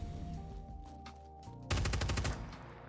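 Rapid automatic gunfire in a sci-fi shooter game, Starfield or Star Citizen, a loud sustained burst of rattling shots breaking in after a quieter stretch of droning game ambience.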